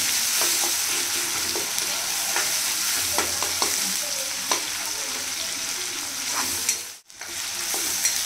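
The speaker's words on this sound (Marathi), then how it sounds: "तर टोमॅटो छान सॉफ्ट होईपर्यंत परतून घ्यायचं आहे।" Finely chopped tomatoes sauté in a hot pan with a steady broadband sizzle, scraped and stirred at irregular intervals with soft utensil clicks, close and continuous, with a brief near-silent gap toward the end.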